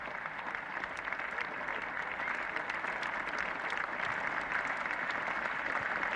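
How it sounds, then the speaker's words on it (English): A large cricket crowd at Lord's in 1972 applauds Greg Chappell reaching his fifty against England, a faint, distant, continuous patter of clapping spread across the ground. "So applause for this very big and generous crowd"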